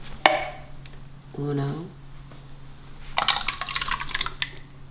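Canned crushed tomatoes poured into a pot for a chicken parmesan pasta sauce, a short thick glugging pour, then a longer wet splattering slide of tomato close by, with a sharp tap near the start.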